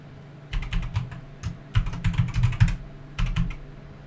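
Someone types a new password on a computer keyboard, with quick clusters of close, crisp keystrokes separated by short pauses.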